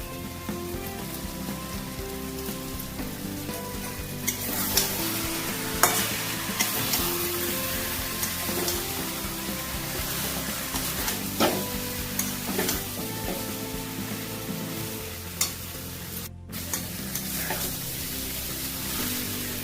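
Boiled soya chunks stirred into a spice masala releasing oil in a pan with potatoes, a dense crackling sizzle like rain under repeated scraping and clinking strokes of the spatula, loud and close, no speech.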